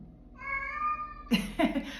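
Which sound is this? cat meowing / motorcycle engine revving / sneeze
cat meowing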